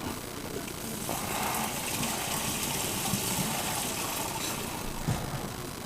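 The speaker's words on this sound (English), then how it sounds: "all I want to do is just drain the water out" Hot water pours and gushes steadily through a strainer while cooking sweet potatoes for pie, a constant rushing splash close by that runs throughout.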